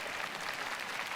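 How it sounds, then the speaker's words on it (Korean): Audience applause at a Busan International Film Festival on-screen event for the Romantics Anonymous team, a faint, even patter of clapping from a distant crowd. "세 분께 다시 한번 박수 부탁드리겠습니다."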